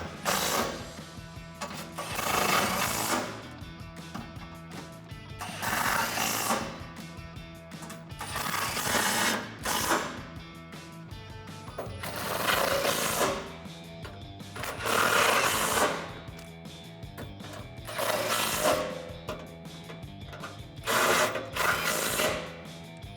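Repeated bursts of a 13mm socket ratchet clicking as bolts on a Rock-Slide Engineering step slider are tightened to the bracket of a Jeep Gladiator JT, with steady mechanical clatter in several close, fairly loud spells separated by short pauses.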